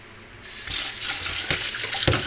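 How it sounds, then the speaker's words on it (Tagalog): Kangkong (water spinach) rinsed under a running kitchen tap, a steady close splashing flow of water that starts abruptly and continues with small bursts of splashing as the leaves are handled. "Hugasan ko yung kangkong"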